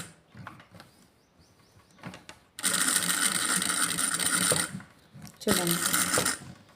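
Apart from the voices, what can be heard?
sewing machine stitching along buckram for neck design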